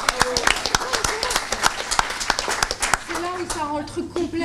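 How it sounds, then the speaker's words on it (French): A small group claps in loose, uneven bursts, fairly close, with a voice talking over the last second or so. "On peut applaudir Aliénor, là."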